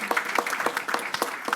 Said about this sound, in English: Let's clap him again.